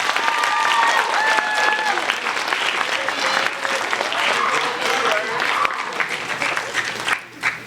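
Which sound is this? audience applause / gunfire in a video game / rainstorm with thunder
audience applause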